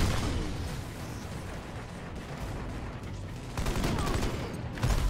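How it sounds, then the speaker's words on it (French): Mortar and gunfire barrage in the video game Army of Two: The Devil's Cartel, a dense continuous rumble of firing with sharper bursts of impacts near the end, heard without talk. "Oula, il y en a qui joue au mortier."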